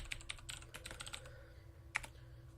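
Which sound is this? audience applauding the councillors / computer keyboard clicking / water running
computer keyboard clicking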